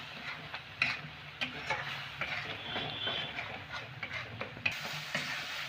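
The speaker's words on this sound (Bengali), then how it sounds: "ধনেপাতার পেস্টটা দিয়ে এরকমভাবে নাড়াচাড়া করে এরকম একদম শুকনো করে নিতে" A spatula scrapes and stirs coriander leaf paste in a hot pan as it dries, giving soft irregular scraping strokes over a faint sizzle, close and quiet.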